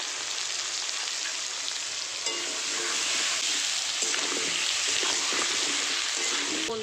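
Potatoes frying in hot oil with salt and turmeric give a steady, dense sizzle that runs throughout and grows slightly louder partway through, with faint crackles and no talk.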